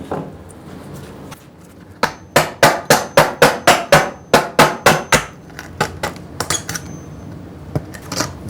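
A hammer pounds old, rotten wood to knock out nails, a loud, close run of about a dozen fast, evenly spaced blows, followed by lighter, scattered taps and clinks.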